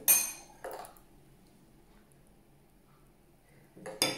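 A small spoon clinks against glass verrines while strawberry tiramisu is layered with biscuit, giving a few bright taps at the start and end, with a quiet stretch between them.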